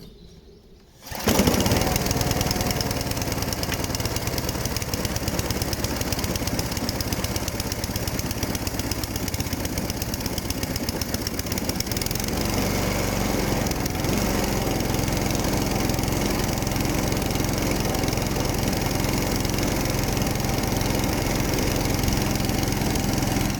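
A small lawn mower engine is pull-started into life, then runs steadily at a loud, buzzing, constant drone throughout, no talking.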